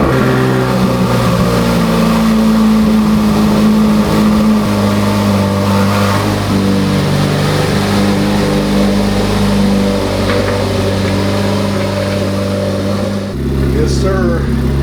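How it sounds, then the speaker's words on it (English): Chevrolet Corvette C8 Z06 V8 on a semi-cold start: a loud, steady, deep engine roar with layered low harmonics that shifts pitch and drops to a lower idle near the end, heard close up. "Let's do a semi-cold start on the C8 Z06"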